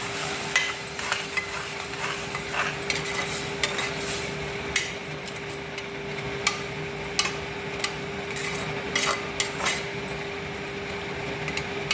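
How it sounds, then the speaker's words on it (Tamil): Vegetable kurma being stirred in a pan, with a spoon scraping and knocking in a steady, irregular rhythm over a soft sizzle, close and moderately loud, no talking. "நல்லா கிளறி விட்டுக்கலாம்."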